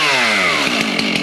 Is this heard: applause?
no